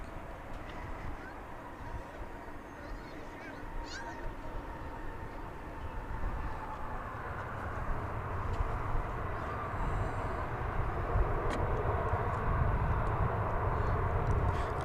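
A Boeing 747 cargo jet taking off at Dallas Fort Worth airport, a broad engine roar building gradually in loudness over several seconds, heard from a distance with no voices.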